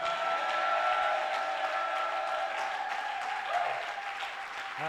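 A church congregation applauds and cheers in sustained, dense clapping with a sung or shouted tone held over it, gradually easing off toward the end, heard from within the crowd.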